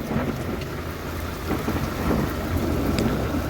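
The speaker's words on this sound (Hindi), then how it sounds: "फिर बारिश आज आ गई है" Heavy rain pours steadily in Saudi Arabia, a dense hiss with a low rolling rumble of thunder underneath, continuous and close, with no talk.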